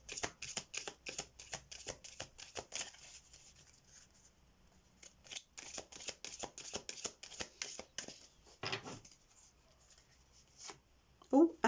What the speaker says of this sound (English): I'm going to pull out some Romance Angels cards as well.